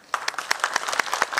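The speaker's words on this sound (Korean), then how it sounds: "다시 한번 축하 박수 부탁드리겠습니다" Audience applause at an award ceremony marking Elder Abuse Prevention Day in Daegu, a brief burst of many hands clapping in a hall, fairly close and steady, without talk over it.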